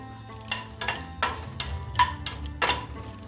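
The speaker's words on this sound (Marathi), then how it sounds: "आता आपल्याला ना विलायची पण भाजून घ्यायची आहे सालीसहितच" Whole cardamom pods dry-roasting in their skins in a pan are stirred in about six rhythmic, scraping strokes. Each stroke brings a brief rattling swish over a faint background sizzle.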